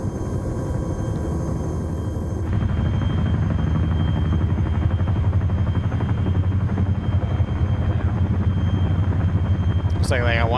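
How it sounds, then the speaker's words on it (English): Chinook helicopter in a military video game, a steady close rotor rumble and drone that thickens after a couple of seconds and runs unbroken throughout. "Looks like they got one Chinook grounded."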